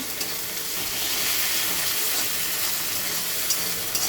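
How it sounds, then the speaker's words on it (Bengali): Spices with ginger and garlic frying in a pan, a close, steady dense sizzle with faint stirring scrapes throughout. "একদম ভালো করে কষিয়ে দেবো। যত আদা রসুনের গন্ধটা না ভাজলে যাবে না।"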